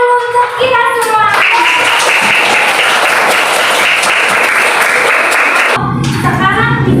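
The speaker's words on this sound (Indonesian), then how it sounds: "Tepuk tangan dulu untuk kita semua." A Grade 3 classroom breaks into dense, loud applause for several seconds, with children's voices heard just before and after the clapping.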